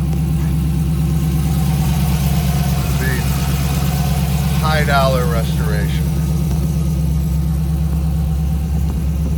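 A 1961 Corvette fitted with an LS engine idles with a loud, steady, low burble that holds evenly throughout, while someone talks over it.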